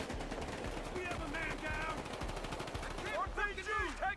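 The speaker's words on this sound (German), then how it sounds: "Da hat gerade irgendjemand mit RPG oder sowas auf mich geschossen." Gunfire crackles in rapid bursts of shots during a Battlefield Hardline match, sharp and repeated, with other game sounds and tonal effects in between.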